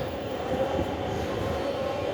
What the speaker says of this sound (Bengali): Shahbag station, metro station.